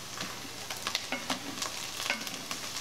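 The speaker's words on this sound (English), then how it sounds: "You want to cook that juice on out of the skillet and kind of start caramelizing the edges of this cut up pieces." Cut-up chicken of the woods mushrooms fry in a skillet, cooking off their juice. A soft, steady sizzle runs throughout with light stirring clicks, fairly quiet and close, and no one speaks.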